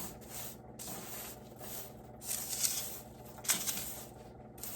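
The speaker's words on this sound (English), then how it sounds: "Give it a stir to get your fruit well incorporated." Dried fruit is stirred into homemade granola, a soft continuous rubbing and scraping of clustered oats against the bowl, with a couple of slightly louder scrapes near the end, fairly quiet and close.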